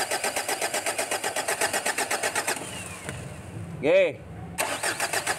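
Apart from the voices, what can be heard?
2012 Ford Everest engine starting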